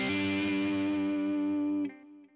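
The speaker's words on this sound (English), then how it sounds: "Hammer on to create that fifth interval. And with some distortion in there, plenty of gain on your amp, bit of delay and some reverb" Distorted electric guitar hammer-on to a fifth interval, with heavy gain, delay and reverb; one sustained ringing chord that holds loudly and then cuts off, leaving a faint reverb tail.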